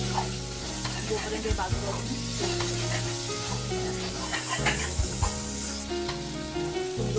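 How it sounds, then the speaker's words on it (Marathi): Coconut paste and spices roasting in oil in a pan for a Kolhapuri mutton masala, a steady, close sizzle running throughout beneath prominent background music, with a few brief spoken words. "त्यानंतर त्यात आपण खोबऱ्याची पेस्ट 4 चमचे टाकून घेऊया. हे सगळं एकत्र व्यवस्थित तेलात भाजून घ्यायचं."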